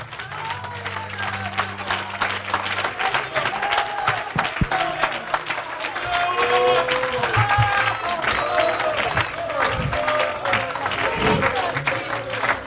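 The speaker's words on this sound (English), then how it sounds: "Come on, clap your hands to the Lord." Church congregation clapping along in worship, steady dense applause with crowd voices and a held tone underneath, continuous for the whole stretch and growing a little louder midway.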